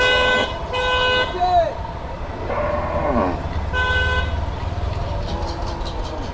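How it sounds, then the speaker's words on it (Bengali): A cattle truck loaded with cows pulls in at a Faridpur, Bangladesh market ahead of Qurbani Eid, its horn tooting in three loud bursts over engine rumble while people talk nearby. "এই যে গরু আসতেছে ট্রাকে ভরে ভরে।"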